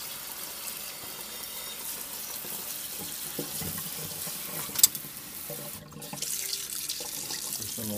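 Tap water running steadily into a sink as electrolytically cleaned silver pieces are drained and rinsed, a continuous close wash of splashing with a small clink partway through and the flow briefly cut near the end.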